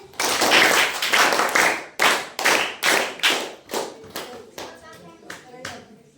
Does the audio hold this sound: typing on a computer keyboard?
no